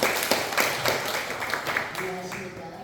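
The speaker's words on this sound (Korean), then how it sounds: "우리 박수 한번 치고 시작하겠습니다." Audience applause fills a church seminar hall, a dense steady patter of many hands clapping for several seconds at moderate loudness, with no speech over it.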